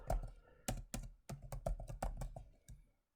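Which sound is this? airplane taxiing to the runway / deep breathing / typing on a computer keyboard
typing on a computer keyboard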